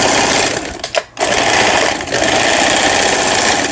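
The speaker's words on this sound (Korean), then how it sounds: "한국산 라이온 미싱 라인 17 제품. 수리를 마치고 방음질하는 영상이었습니다." A repaired Korean Lion Line 17 sewing machine stitches loudly up close with a fast, steady mechanical chatter that briefly pauses about a second in and then resumes.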